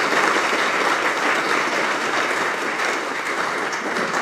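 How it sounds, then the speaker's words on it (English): Steady applause from an audience at a University of Kentucky event, a dense, even wash of clapping that holds at constant loudness for several seconds without voices. "he deserves a round of applause"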